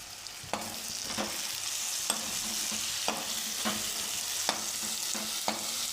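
Potato curry masala sautéed in a pan, with a steady broadband sizzle and a series of sharp spoon scrapes and taps as the mixture is stirred, close and alone with no talk.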